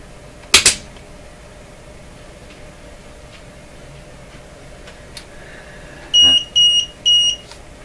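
A Precise Model III tube tester, set up for Gm calibration of a 50L6 tube, gives three short electronic beeps in a row near the end, with faint ticks and a sharp click before.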